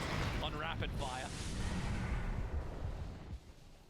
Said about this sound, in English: It's just the Yamato cannon from the back line on rapid fire.